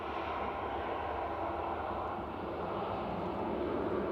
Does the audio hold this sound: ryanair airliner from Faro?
yes